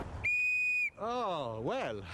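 A Ukrainian clay folk bird whistle (zozulytsia) gives one steady, bright note, then a warbling, trilling call that rises and dips, loud and close.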